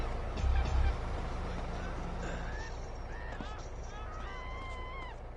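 Ducks in the video game GTA San Andreas quack and honk in irregular bursts over a steady background hum, with voices talking at the start.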